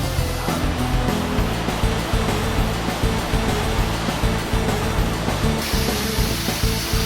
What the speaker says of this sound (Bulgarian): И след това най-накрая стигнахме водопада.